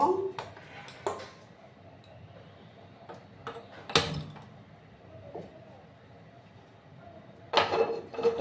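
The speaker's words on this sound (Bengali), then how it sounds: "কড়াই আমি বসিয়ে দিলাম।" A metal kadai (wok) set down on a gas stove in a home kitchen, before cooking fish head with bottle gourd: a few sharp clanks and knocks close by, spaced apart, with quiet stretches between.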